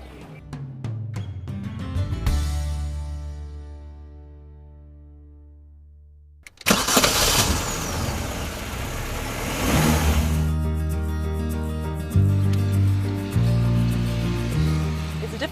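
A car engine idles and then revs up as the car pulls away, with a rising drone, a sharp burst into loud acceleration, and tonal gear-change shifts toward the end.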